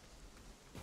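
Rain falling steadily in the northern lands of the video game Conan Exiles, a faint, even hiss with a slight swell at the end.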